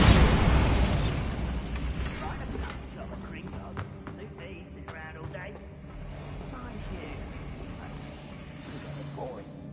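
Bombarda blasting spell going off in Hogwarts Legacy, a loud booming burst at the start that decays into a rumbling tail, followed by scattered smaller pops and clatter with low background sound.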